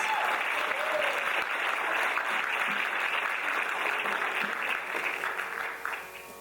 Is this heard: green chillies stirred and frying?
no